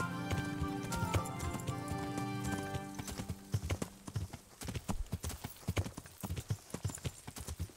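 Galloping horse hooves in the medieval game Kingdom Come: Deliverance, a fast steady clip-clop rhythm that sits under game music at first, then stands out alone as sharp, close hoofbeats.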